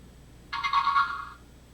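A LEGO EV3 robot gives a short electronic beep, about one second long and of moderate loudness, when its color sensor detects black; the surroundings are otherwise quiet.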